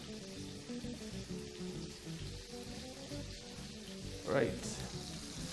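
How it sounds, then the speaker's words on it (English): Lamb kofta sizzles steadily in a hot frying pan, a crackling hiss that carries on throughout, with a brief louder burst near the end and a short spoken word. "So those are nicely sizzling on the pan."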